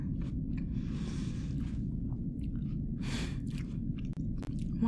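Someone chewing a crisp red Delicious apple close to the mic, with a couple of crunchy bites over steady low background rumble and no talking.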